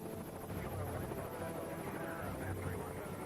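Marine One presidential helicopters flying together over Washington, a steady rotor rumble with wind noise holding through the whole stretch, fairly distant and continuous with no talk.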